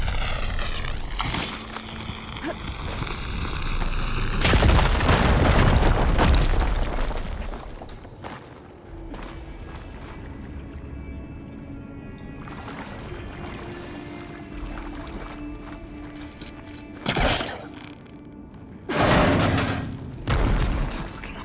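A firegleam blown up in Horizon Forbidden West: a heavy, roaring explosion that swells and rumbles for several seconds, then fades into a quieter ambience with a few later thuds.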